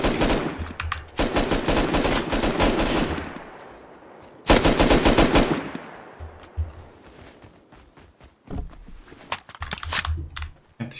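Heavy automatic gunfire rattles in a PvP firefight in the video game Rust, with long dense bursts and sharp single shots that stop and start over the whole stretch.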